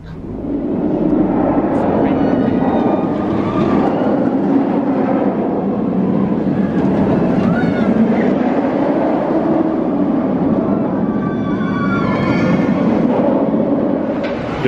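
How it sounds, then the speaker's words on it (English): Riding the Sky Ride cable car across the Forbidden Valley at Alton Towers on a sunny day: a steady, loud rumbling and whooshing fills the whole ride, with voices murmuring underneath. "It's a relaxing ride on the Sky Ride across the Forbidden Valley."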